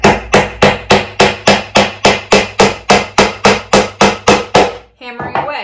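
Hammering nails into a wooden birdhouse, about sixteen loud, close, evenly spaced blows in a steady rhythm, then a brief clatter at the end.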